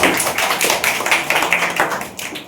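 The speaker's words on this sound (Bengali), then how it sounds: "সবাই একটু হাততালি দেওয়ার জন্য অনুরোধ করব।" An audience applauds at a student awards ceremony in Keshabpur honouring top secondary and higher secondary students, a dense, steady wash of many hands clapping close by, holding at an even level throughout with no voices.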